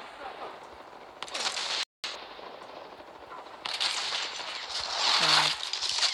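Pistol shots crack in the mobile shooter Modern Combat 5, fairly faint and scattered among game sound effects and background noise, with a brief dropout partway through.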